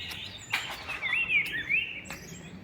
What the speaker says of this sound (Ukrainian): І пташок послухати заодно.